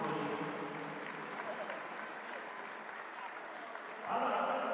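A crowd applauds the champions at a live show event, steady clapping with talk mixed over it, swelling louder near the end.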